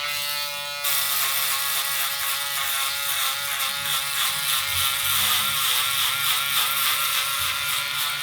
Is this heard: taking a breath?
no